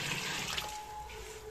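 Water runs and trickles out of the body of a leaking washing machine, a faint, steady hiss of splashing flow with no voices, thinning slightly partway through.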